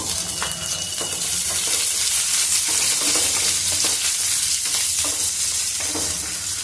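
Green chillies and cumin seeds fry in oil in a pan with a continuous close sizzle, punctuated by intermittent scraping and stirring clicks.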